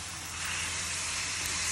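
Sausage and radicchio sizzling in a hot pan, a steady, loud, broadband hiss of frying that holds evenly throughout.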